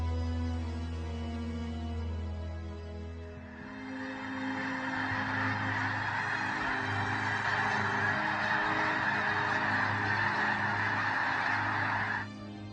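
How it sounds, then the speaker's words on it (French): Geese honking, a dense loud chorus of overlapping nasal calls that swells in after a low tonal opening and carries on steadily before cutting off near the end. "Les oiseaux sont parmi les créatures les plus fascinantes sur Terre."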